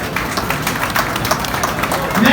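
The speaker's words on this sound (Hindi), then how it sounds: "एक जोरदार ताली बजा दीजिए" An audience claps at a turban-tying honour ceremony for Ustad Deepu Beniwal. The applause comes as a brief, close burst of loud, scattered claps under an announcer's voice.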